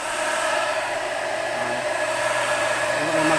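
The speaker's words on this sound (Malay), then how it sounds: "Memang kuat dia punya pusing dia." A motorized nozzle sprayer's fan spins at speed, giving a loud, steady whirring roar with a broad airy hiss that holds constant throughout, close and alone.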